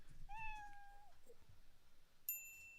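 One clear, drawn-out cat meow sounds close by, followed by a quiet pause and then a short, bright chime-like ding.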